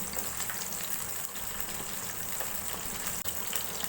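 Garlic cloves frying in oil in a pan for a homemade loitta fish curry, giving a steady close hiss and sizzle with bubbling throughout and no voices.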